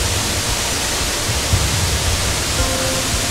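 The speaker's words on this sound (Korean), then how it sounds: "저기 수락폭포가 보입니다" A loud, constant rushing roar of falling water, broadband and unbroken, from Surak Falls in Gyeongban Valley, South Korea, heard on approach.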